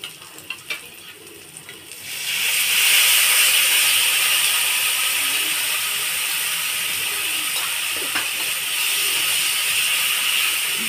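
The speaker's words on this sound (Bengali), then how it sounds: "টক দইটা দিয়ে আমি ভালোভাবে মশলাটা কষিয়ে নিব।" Spices sizzling in a pan after sour yogurt is added for potato curry, a sudden loud frying hiss that starts after a couple of seconds and stays steady with faint stirring clicks.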